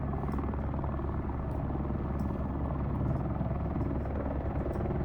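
A helicopter in a flight simulator game, hovering while lifting a load on its hook, gives a steady, dense rotor and engine drone that stays even and unbroken throughout with no talking.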